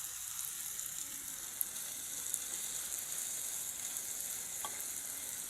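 Onions fry in a pan with a soft, steady sizzle, faint and even throughout, broken by a couple of tiny pops and no voices.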